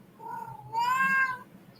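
A cat meows once, a drawn-out, rising and falling call heard up close and alone, with a quieter lead-in before the louder main cry.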